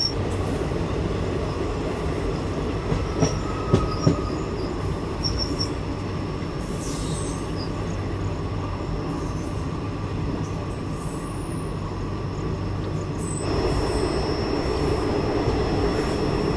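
A train on the Kolkata to Vizag route runs along the rails with a steady rumbling roar of wagons and wheels, broken by occasional clacks and a brief faint squeal, close and continuous.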